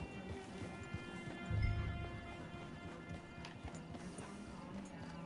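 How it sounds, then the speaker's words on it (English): Steady clip-clop of horse hooves trotting at a moderate pace in the video game Red Dead Redemption 2 Online, over a busy background with faint voices mixed in. "It's your horse."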